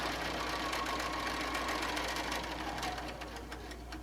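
A sewing machine stitches an apron pocket with a continuous fast rhythmic whir and needle patter at close range, running steadily with no talking.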